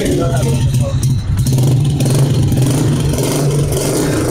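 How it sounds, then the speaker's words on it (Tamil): A single-cylinder Royal Enfield Bullet motorcycle engine thumps in a steady, loud rhythm close by, with a voice talking over it. "இந்த புல்லட் என்ன சத்தம் நிறைய டுக்கு டுக்கு டுக்கு டுக்கு."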